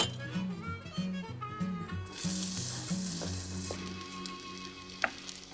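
Celery hits a hot pan for a Cajun-style Louisiana boil, a sudden loud sizzle rising over a low rhythmic background hum, then steady frying with a faint clink near the end.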